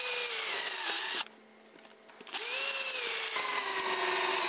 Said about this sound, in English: I just want to make sure I don't put these screws in at exactly the same place as the other side